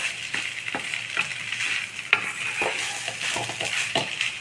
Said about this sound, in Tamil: இப்போ லைட்டாக உப்பு போட்டுட்டு இதில் சேர்த்துடலாம், கலக்கிடலாம்